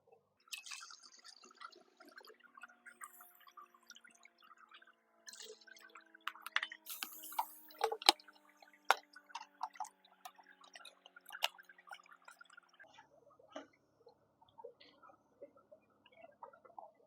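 Water being poured into a half-gallon plastic sprayer holding milk for a rose mildew treatment, a quiet close trickle with small splashes, drips and plastic ticks, rising and falling in bursts.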